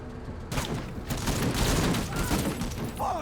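Sustained gunfire from the tactics video game MENACE, a dense, continuous fusillade of overlapping shots and impacts that starts abruptly and holds loud for about three seconds.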